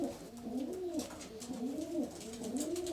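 A pigeon coos in soft, rolling, repeated calls, close by inside a pigeon loft, over a low background hum of other birds.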